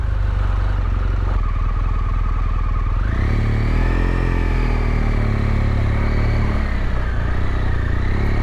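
A BMW R1200GS Adventure motorcycle pulls away smoothly in first gear at low revs. The engine runs as a steady close drone and its pitch rises gently as it gathers speed, with wind rumble throughout.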